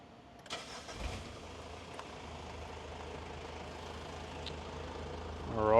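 A Mitsubishi Pajero Gen 3 NP engine cranks and settles into a steady idle, then the engine note rises as the drive begins, fairly close and without talk.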